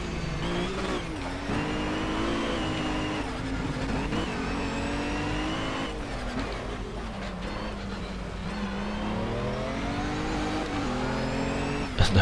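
Race car engine in the video game Project CARS, racing close behind another car: a loud, continuous engine drone with rising and falling pitch through shifts and corners, sustained throughout with no talk.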